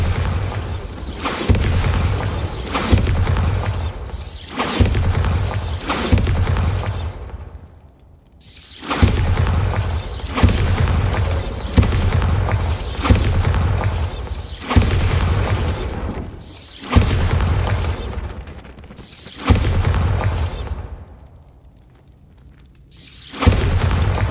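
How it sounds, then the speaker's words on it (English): Repeated Bombarda spell blasts in the video game Hogwarts Legacy: a long run of heavy booming explosions with debris, about one every one to two seconds, broken by two short quieter gaps. "Bombarda!"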